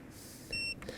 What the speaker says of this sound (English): you press this AC outlet button, hold it down. You hear the beep